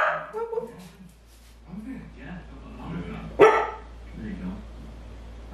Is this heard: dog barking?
yes